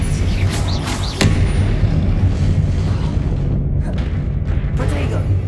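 Confringo fire spells blasting in Hogwarts Legacy combat, loud booming explosions and whooshing bursts over a dense rumbling battle bed, with a voice shouting spell names over it.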